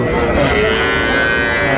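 A Sahiwal bull calf moos loudly and close, a long drawn-out low call over a noisy cattle-market crowd murmuring in the background.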